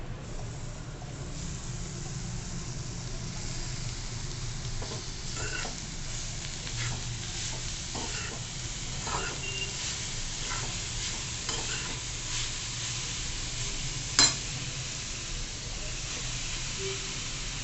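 Grated beetroot sautés in a pan, a soft steady sizzle with scattered scraping and stirring taps, one sharp clink near the end.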